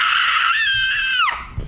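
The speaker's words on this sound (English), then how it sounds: "Get ready for a scream." A single loud, sustained scream rings out at close range, holding its pitch before sliding sharply downward and cutting off, with a brief bump of noise after it.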